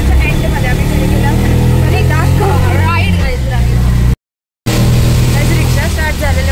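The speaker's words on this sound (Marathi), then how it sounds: "रिक्षा स्टार्ट झालेलं म्हणून तर कॅमेरा एवढा हालत होता." An auto rickshaw engine idles and runs with a steady low rumble on a rainy Bandra street, close by and loud under people talking, broken by a brief gap of silence partway through.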